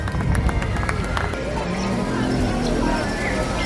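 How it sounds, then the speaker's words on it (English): Audience at a live Jurassic World dinosaur stage show applauds and cheers for a performer, a dense, loud wash of crowd noise filling the space without a break. "Round of applause for Juliet, everybody!"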